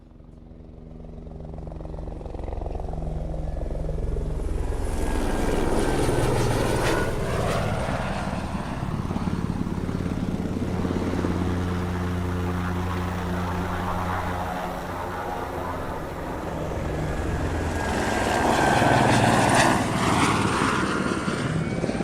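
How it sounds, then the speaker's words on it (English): Bell 407 helicopter recorded close up, a loud sustained turbine whine and rotor thrum that builds, holds for a long stretch and then swells again toward the end, with no talking over it. "I'm gonna play an audio demo of you recording a helicopter, a Bell 407."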